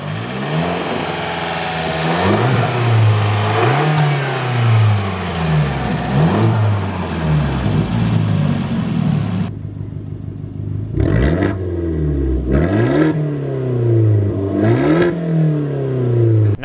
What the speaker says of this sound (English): the four-cylinder turbo engine